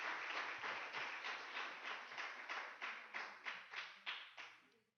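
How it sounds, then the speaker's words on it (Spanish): A church congregation claps in unison, roughly a dozen rhythmic even claps over a broad applause wash, loud and fairly close, tapering off at the end with no voices. "Aplaudas a sí mismo si es verdad"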